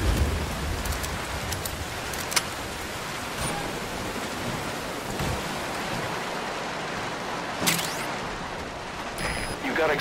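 Steady rain hisses throughout a nighttime scene in Metal Gear Solid V: Ground Zeroes, a constant dense wash with a few faint sharp clicks, moderately quiet and unbroken.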